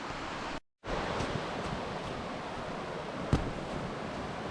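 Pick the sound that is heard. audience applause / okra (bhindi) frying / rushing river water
rushing river water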